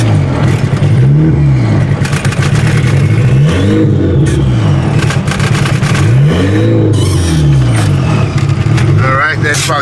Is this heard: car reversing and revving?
yes